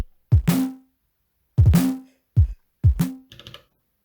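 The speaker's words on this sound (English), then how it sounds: "Like there's a normal kick and then we have a repeating kick." Repeating kick drum from an Elektron Digitone with an arpeggiator lock: four punchy synthetic thumps with pitch-falling bodies, some quickly retriggered, in a steady pattern, plus a short bright clicky tail at the end.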